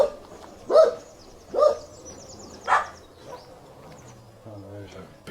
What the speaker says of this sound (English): there's a big scary dog back there.